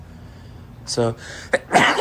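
A single sharp sneeze bursts out near the end, just after a brief spoken word and a short vocal sound.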